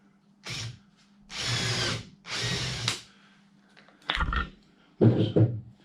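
A cordless power drill bores a screw clearance hole in wood while building a blanket box, with several short whirring bursts of one to two seconds each, close and loud with pauses between them.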